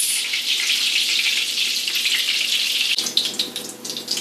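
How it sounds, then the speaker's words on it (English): Gluten-free breaded pork schnitzel fries in hot oil with a steady, bright sizzle that crackles unevenly near the end. It is close and alone, with no talking. "drop it into some hot oil for about 3 minutes on each side"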